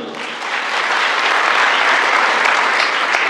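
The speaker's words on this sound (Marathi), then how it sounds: "तुमच्या सगळ्यांना जे डोनर आहेत त्यांच्यासाठी एकदा टाळ्या वाजवून" An audience claps steadily in appreciation of donors, a dense, sustained round of applause from a seated crowd that swells slightly after the start and holds loud throughout.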